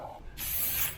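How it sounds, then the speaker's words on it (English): A short aerosol spray hisses on after a brief quiet moment, a steady close-up burst of high hiss lasting about half a second. "On some mosquito spray."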